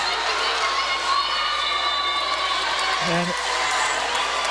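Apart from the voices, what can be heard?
school volleyball crowd cheering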